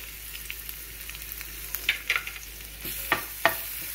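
Ginger-garlic paste sizzles in about two tablespoons of hot oil in a pan, with a steady low crackle and a few sharper spits and pops near the end.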